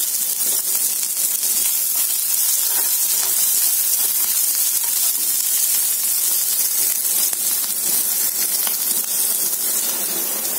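Chopped onion and two green chilies sautéing in a pan, producing an even, continuous hissing sizzle throughout with no voices.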